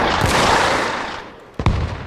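Two sharp gunshots in the video game Arma Reforger, the first around a quarter second in and the second near the end, over a steady layer of noisy game ambience.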